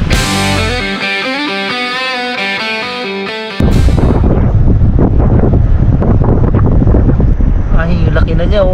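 Strong rainy-season wind gusting around a lone-rider moto tent at a motorcycle campsite in Tagaytay, loud roaring buffeting and microphone wind noise, preceded by a few seconds of music.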